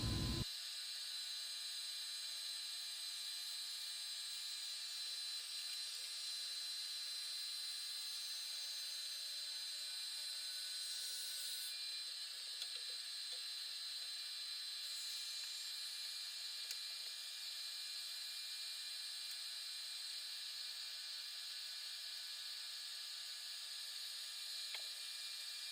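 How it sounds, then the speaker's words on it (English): A drum sander grinds steadily across a walnut and maple 3D cutting board, a continuous high-pitched whine with bright hiss that holds nearly unchanged for the whole stretch, close and fairly loud, no voices. "we're going to put this big thing through the drum sander"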